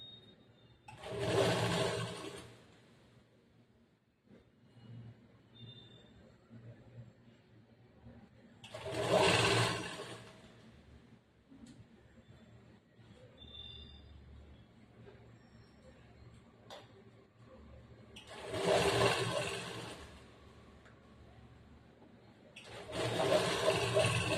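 A sewing machine stitching a churidar semi-patiala pant runs in four short bursts of rapid whirring, separated by pauses of quiet handling.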